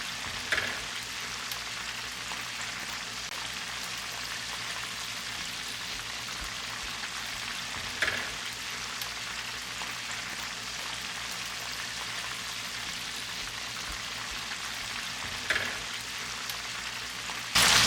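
Buttermilk-coated chicken drumsticks, six or seven pieces, deep-frying in hot oil with a dense, steady bubbling sizzle, broken by a few short sharp crackles and clinks.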